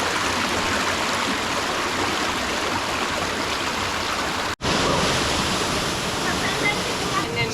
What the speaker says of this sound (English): Second deep water crossing of the day.